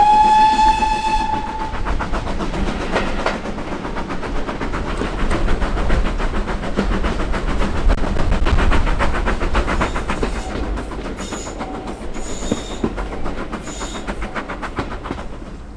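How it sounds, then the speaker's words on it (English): A GWR Small Prairie tank engine, 5524, chuffs loudly and continuously as it runs on the South Devon Railway, opening with a whistle blast and ending with a few shorter whistle toots. "5524, a GWR Small Prairie tank engine"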